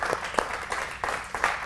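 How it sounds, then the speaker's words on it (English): A church congregation claps during a sermon, a handful of distinct, fairly spaced claps standing out over a low room murmur, moderately quiet and uneven in rhythm. "Clap for the Lord"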